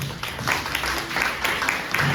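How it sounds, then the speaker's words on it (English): Crowd applause fills a town hall audience, a steady dense wash of clapping with some voices mixed in, fairly loud and sustained throughout. "If we could give a round of applause to Grand Street Settlement"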